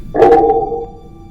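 A single short synthetic ping with a bright attack and a ringing tone that fades over about a second, loud and isolated.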